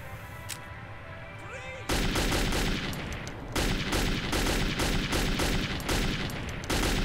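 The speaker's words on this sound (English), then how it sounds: "the AK is a powerhouse of a gun" AK rifle gunfire in Metro 2033: after a quieter opening, loud sustained automatic bursts hammer away continuously, with brief pauses between volleys.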